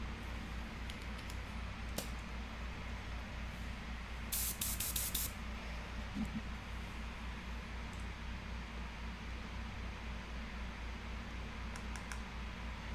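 An Iwata HP-SBS side-feed airbrush sprays FW ink onto a portrait, a faint steady hiss running throughout, with a louder burst of spray and scattered small clicks around it.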